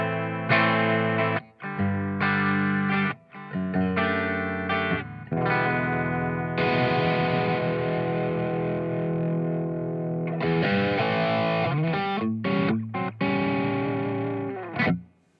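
A Tomkins Custom T-style electric guitar played clean through an LPD Seventy4 vintage Marshall-style drive pedal, loud strummed chords and picked notes ringing out alone with brief gaps between phrases.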